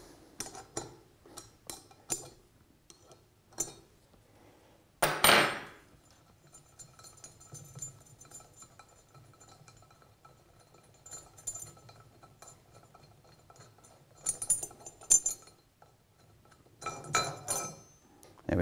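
Metal parts clink and knock sporadically as the delivery manifold comes off an air-operated double-diaphragm pump during a service, with a few sharper close impacts between quiet stretches.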